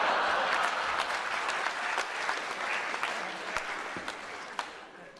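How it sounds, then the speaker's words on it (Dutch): Audience applause at a Dutch comedy show in a concrete circus tent, a dense, steady clapping that fills the whole clip at an even level, with a few sharper claps standing out and no talk over it. "En dan klappen en denken dat het voorbij is."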